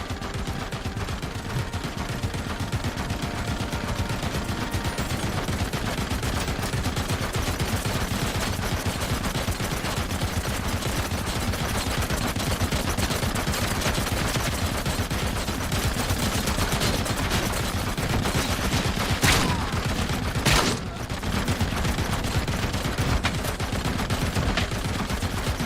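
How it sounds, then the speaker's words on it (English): Relentless automatic gunfire in RoboCop: Rogue City rattles on without pause, a dense wall of shots with a couple of sharper bursts near the end and no talking. "They have not stopped firing."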